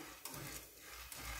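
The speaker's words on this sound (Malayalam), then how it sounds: "വറുത്ത സ്മെല്ല് വരുന്ന വരെ നല്ലോണം ഒന്ന് വറുത്തെടുക്കുക" Spices dry-roasting in a pan for a brinjal dish: a soft, continuous scraping stir with a faint low sizzle, and two brief louder scrapes of the spoon against the pan, close and without talk.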